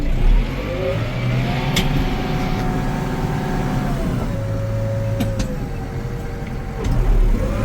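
A McCormick CX105 tractor pulls away and accelerates through its gears, the engine note rising and falling in pitch with steady rumble and whine, close and fairly loud throughout.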